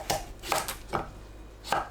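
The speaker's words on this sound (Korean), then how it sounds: "오이는 양끝을 자르고 길게 반으로 가릅니다." Four distinct knife chops through cucumber on a cutting board, crisp and close, spaced unevenly with a pause before the last, no talking.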